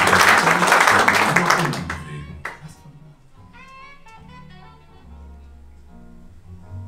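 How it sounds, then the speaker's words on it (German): An audience applauds at a magic show in the Unterhaus cabaret theatre in Mainz, with dense, loud clapping for about two seconds that quickly dies away into quieter room sound and tones. "Bedanken Sie sich für den Applaus."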